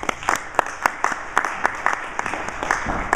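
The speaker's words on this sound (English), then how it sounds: "Give Adam a round of applause." An audience at a business conference breaks into applause, a burst of clapping with distinct sharp claps over a dense, steady patter.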